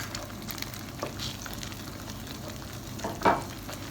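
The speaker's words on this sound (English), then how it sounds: "If like this started bubbling and boiling" Steady sizzling and bubbling of milk and saffron cooking in a pan for suji halwa (semolina pudding), with a few soft utensil knocks and a louder clatter near the end.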